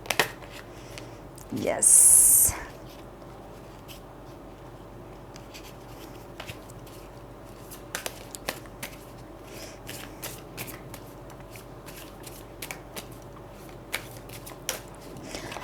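Tarot cards are shuffled and handled in a quiet room, with a brief burst of riffling near the start followed by sparse soft flicks, taps and card slides, and a voice speaking once.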